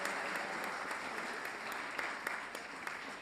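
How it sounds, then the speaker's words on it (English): Audience applause fills a church hall at a bell choir Christmas concert, a steady dense wash of clapping from many hands lasting several seconds, with no talking over it. "A round of applause."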